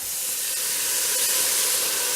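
Water poured into a hot pan of browning ground chuck bursts into a loud, steady hiss of steam and sizzle, close and continuous without talk.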